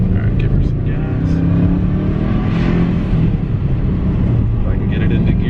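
Blown Subaru Legacy GT engine revving under throttle, a steady loud drone with a rising rev partway through and voices talking over it.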